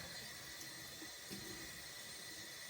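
Water runs steadily from a tap as a face is rinsed clean of foaming cleanser, a continuous soft splashing wash with no speech.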